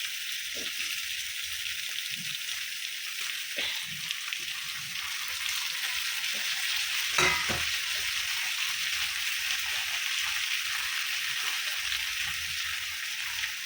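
A quiet, even sizzle of spice paste frying in a pan, continuous and fairly faint, with an occasional soft tap.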